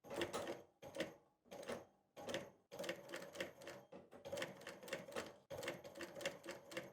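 A sewing machine stitches at a slow beginner speed in several short bursts separated by brief pauses, then in longer runs; the mechanical chatter is close and clear, with no talking.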